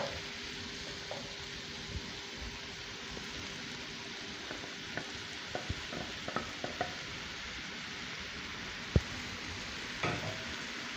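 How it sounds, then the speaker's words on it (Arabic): Onions sizzle steadily in a pan, a soft continuous hiss broken by scattered light clicks and scrapes as they are stirred, fairly faint and heard with no talking. "كده هننزل بالبصل، ننزل بالبصل بتاعنا كده"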